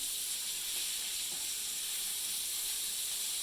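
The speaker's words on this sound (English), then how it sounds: "I'm going to take my shrimp, and I'm going to quick fry them in a little butter" Seasoned shrimp quick frying in butter in a frying pan, giving a steady, bright sizzle and hiss that stays constant and close throughout with no talking.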